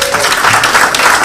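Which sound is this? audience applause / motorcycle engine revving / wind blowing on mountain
audience applause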